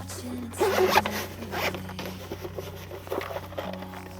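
The zipper on a bag holding a portable coffee machine is pulled shut during winter car camping, giving a quick rasping zip followed by light rustling and handling noises.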